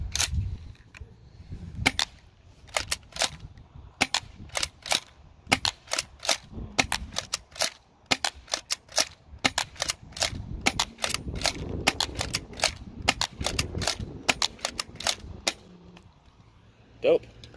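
A CYMA M3 Super 90 airsoft shotgun fires many sharp, snappy shots in irregular bursts, crisp and close, with quiet room sound and occasional soft voices between them.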